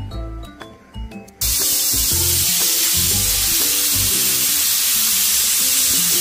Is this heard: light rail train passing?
no